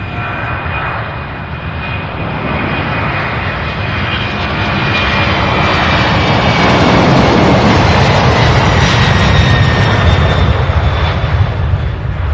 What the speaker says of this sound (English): The 767 not scared of the wake turbulence left behind by the MD-11.